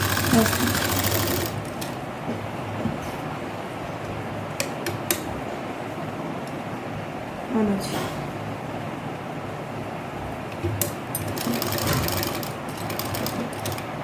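Sewing machine stitching the neckline of a suit, running loud and close in a long steady mechanical whir broken by clicks, with a voice speaking softly underneath.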